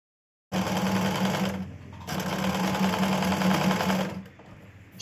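Domestic sewing machine running a double line of stitches along the shoulder seam of a Naira-style kurti, a close, steady whirring hum in two bursts separated by a short pause, with no talking.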